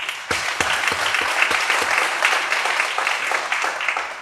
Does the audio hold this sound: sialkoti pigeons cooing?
no